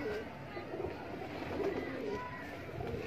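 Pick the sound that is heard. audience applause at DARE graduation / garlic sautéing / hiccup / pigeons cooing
pigeons cooing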